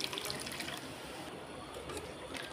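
Water poured from above onto ground mustard paste in a pan while cooking a spicy royna fish curry, making a steady, moderately loud splashing rush throughout with no talking.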